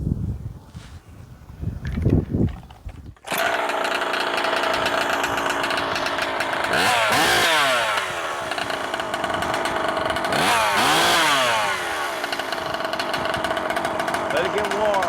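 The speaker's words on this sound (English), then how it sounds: "We're going to tune this thing up best we can right here," A ported Husqvarna 372XP clone chainsaw fitted with a modified scooter pipe starts after a few quiet knocks, then runs loud and close with a harsh buzzing drone and two revving swells.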